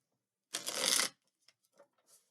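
A deck of tarot advice cards is shuffled in one dense riffle lasting about half a second, followed by a few faint card taps and slides.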